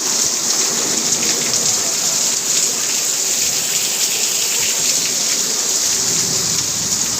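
Heavy first rain of the season in Ghatkopar, Mumbai, pours steadily and loudly, a dense continuous hiss with no voices over it.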